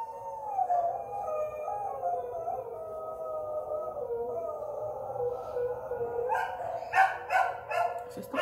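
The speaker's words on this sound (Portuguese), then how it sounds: "Vendo o cachorro cantou?" A dog howls in a long, wavering, song-like wail that holds steady for several seconds, then breaks into a few sharper yelps and barks near the end, fairly close and with no talking over it.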